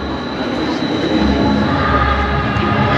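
An Austrian tram pulls away from a station, a loud continuous rumbling roar with a steady mechanical whine, close by and unbroken.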